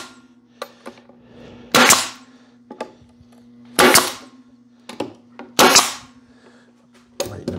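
Sharp, loud staple gun shots fire one at a time, four strong bursts with lighter clicks between them, while a steady low hum runs underneath. The stapler drives 1½-inch staples, some set at an angle, during beekeeping equipment work.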